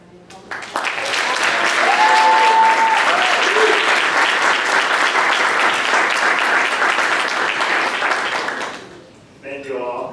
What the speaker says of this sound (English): So another round of applause for Bryan.